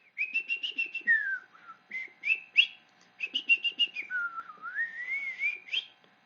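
Flute-like whistled melody from the birdsong-style piece The Birds in Carnival of the Animals: rapid trills and fluttering high runs, then gliding phrases, with soft accompaniment underneath. It plays loud and close, with no voices.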